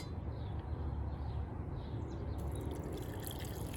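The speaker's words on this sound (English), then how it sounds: "now I will add some water in this one" Water being added to rose petals in a container while making rose essence, a steady, close trickling and splashing wash that carries on for several seconds with no talk.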